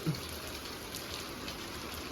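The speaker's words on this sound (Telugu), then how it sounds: "ఇప్పుడిప్పుడే మదనపల్లి వర్షం స్టార్ట్ అయింది" Rain falls steadily in Madanapalle, a soft, even patter and hiss with no distinct drops standing out, quiet and continuous throughout.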